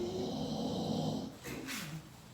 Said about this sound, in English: Hennessy, back there snoring.